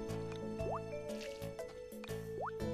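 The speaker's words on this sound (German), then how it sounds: "Mit gleichem Energieverbrauch gleich mal 2 Felder auf einmal gießen" Crops are watered with a watering can in Harvest Moon, heard as repeated drippy, squishy splashes of liquid with rising gurgling tones, recurring in a regular pattern.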